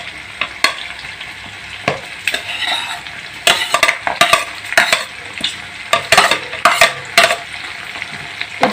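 Onions and capsicum fry with pork in a pan for an Assamese-style pork fry, a steady close sizzle broken by repeated scraping stirs and light utensil clinks, with no talking.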